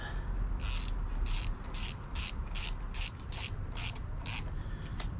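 Ratchet wrench with a 1/4 inch socket tightening down a part on a 5hp Briggs and Stratton engine: about nine quick bursts of pawl clicking in a steady rhythm, close and clear over low background rumble.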